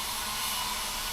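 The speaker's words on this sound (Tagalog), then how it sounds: "Marunong siya mag-blower." A hair dryer blows in a steady, continuous whoosh, fairly faint and alone, with no talk over it.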